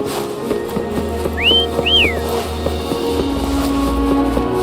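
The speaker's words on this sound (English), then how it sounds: "Try whistling." A character whistles in a video game to call a companion, two short rising-and-falling whistles standing out clearly over a steady ambient game soundscape.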